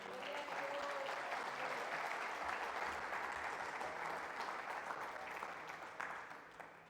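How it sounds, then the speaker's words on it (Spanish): A church congregation gives a sustained round of applause during a service. The dense, even clapping fills the room and tapers off slightly at the end. "¿Podemos dar una ofrenda de palmas?"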